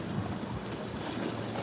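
Ocean water at a Big Island beach surging up through a rock, a brief rushing wash of surf with wind noise on the microphone.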